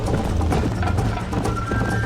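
Horse hooves clip-clop at a steady gallop in the Red Dead Redemption video game, a continuous rhythmic thudding that stays close and fairly loud throughout with no one speaking.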